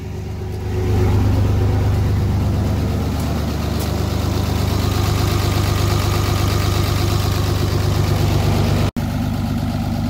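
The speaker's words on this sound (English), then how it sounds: "I didn't know that this could go back into high idle in neutral." Vehicle engine running at a steady high idle in neutral, a loud continuous low hum with a faint knocking texture throughout, with no talk.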